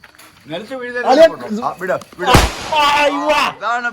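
One loud firecracker blast cracks out midway during Christmas celebrations while people keep talking close by before and after it.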